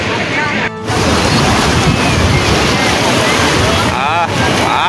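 Light sea waves wash in at Digha beach during rainy-season weather, a steady broadband surf roar mixed with wind buffeting the microphone, with a brief dip near the start and faint voices in the background.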